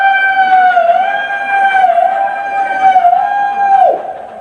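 A preacher imitates an ambulance siren with his voice during a Maulid sermon, a steady wailing tone that rises and falls over several seconds, loud and close, with no other speech.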